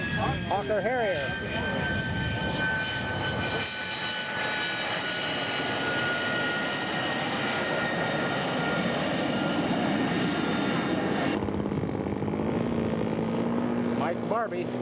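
A model Hawker Harrier at a scale aircraft show gives a sustained loud engine roar with whining tones, steady throughout and dropping in pitch near the end as it passes.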